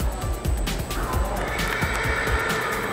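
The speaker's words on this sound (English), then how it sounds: "That horse should be named Bucky." A horse at a jumper horse show gives a loud, close neigh that rises into a long whinny, with clip-clop hoof sounds and arena noise around it.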